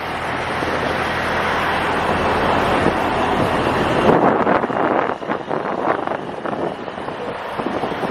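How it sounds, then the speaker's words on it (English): Strong wind buffeting the microphone outdoors, a continuous roaring rush that turns gustier and more uneven partway through. "It's windy out here, so I don't know if y'all can hear me good"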